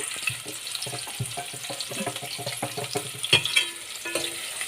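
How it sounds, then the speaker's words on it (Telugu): Onion and curry leaves frying in hot oil with tempering spices for an Andhra-style meal, a steady close sizzle with scattered crackles and stirring clinks, no talking. "ఇప్పుడు ఉల్లిగడ్డ, కరివేపాకు వేస్తా."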